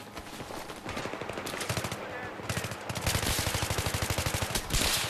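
Rapid automatic gunfire in the Battlefield 3 video game rattles in dense, steady bursts, loud and continuous with brief shifts in intensity.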